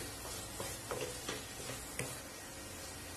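Quiet sizzling with scattered clicks and scrapes as soya keema is stirred and sautéed in a pan, a few sharp taps over a steady hiss.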